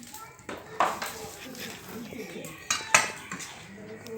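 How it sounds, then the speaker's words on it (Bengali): A spoon clinks and scrapes in a pot while mixing jujube pickle with spice paste, with a few sharp knocks against the metal amid a speaking voice. "এই যে এবার ভালো করে মিশিয়ে নিতে হবে"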